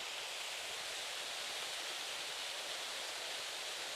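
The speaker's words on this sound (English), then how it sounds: "Here is the beautiful waterfall with sound." Steady, even rush of falling water, a soft continuous hiss with no breaks or other sounds.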